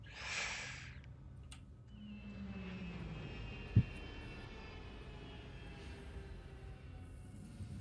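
A spaceship touches down in the video game Star Citizen, its engine drone and a steady airy whoosh rumbling low throughout, with a brief thump near the middle of the landing.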